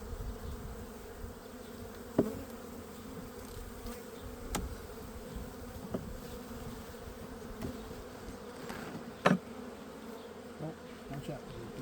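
Honeybees swarm around an open beehive, giving off a steady, close drone of overlapping buzzing with a few sharper knocks and clicks from handling the hive.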